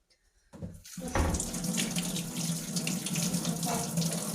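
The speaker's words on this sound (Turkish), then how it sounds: "Domateslerimi de yıkayım." Tap water runs steadily into a kitchen sink while tomatoes are washed, the flow starting abruptly after a short quiet moment and continuing as a close, loud, even splash with no talking.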